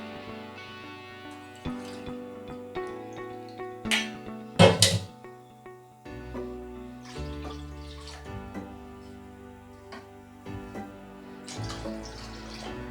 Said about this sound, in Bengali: তো 250 কাপ হিসাবে আমি দুধটা মেপে দিয়ে দিচ্ছি।